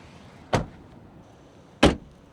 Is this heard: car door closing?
yes